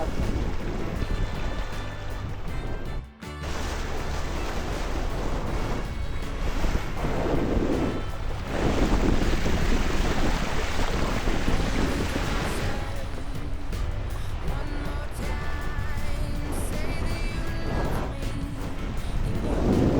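Wind rushes over the microphone while water splashes and surges steadily around a sailboat moving fast on the water in New Zealand, a continuous loud wash with no clear talk.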